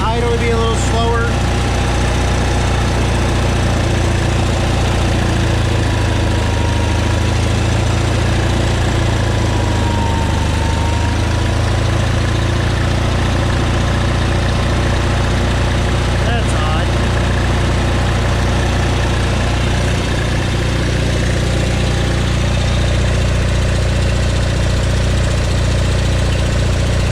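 A steady, close Onan engine idles on a John Deere 318 tractor, a continuous low throbbing drone with a faint knocking texture that holds the whole time, with someone speaking over it.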